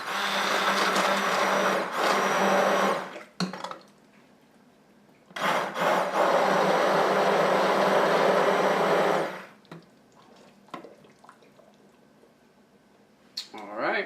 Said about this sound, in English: I've got my immersion blender.